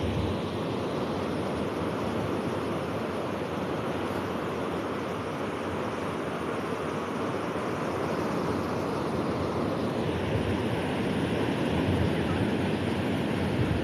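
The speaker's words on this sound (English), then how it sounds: "You can see the waves are pretty tame today." Calm, mellow ocean waves wash continuously onto La Jolla Shores beach in San Diego, a soft steady surf roar mixed with light wind and no voices.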